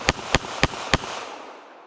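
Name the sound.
S&W Bodyguard 380 pistol gunshots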